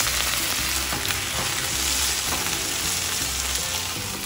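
Beans for refried beans frying in a pan, a steady, loud sizzle with crackling spits and faint stirring scrapes, heard alone without talk.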